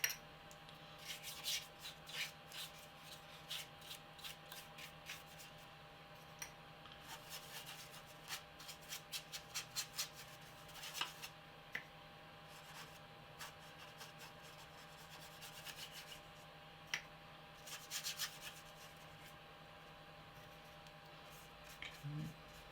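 Soft, repeated rubbing and scratching of abrasive sanding a dried weathering wash on a model's surface, in quiet close strokes of uneven rhythm under a faint steady hum.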